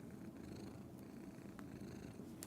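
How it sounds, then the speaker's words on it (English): A cat purring close to the microphone, a soft, steady low rumble that continues without a break, faint and alone apart from a couple of small clicks. "My God, you are a demanding cat."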